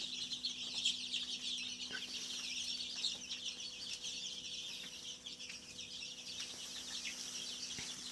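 Roosters and castrated hens of about 2.5 to 4 kg cluck and call inside a poultry room. The chatter is continuous and moderately close, with a steady electrical hum underneath and no talking.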